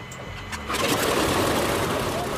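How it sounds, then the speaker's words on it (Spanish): An aircraft engine with preheated oil turns over and catches within a moment, then settles into a loud, steady, close roar. "El motor está en marcha."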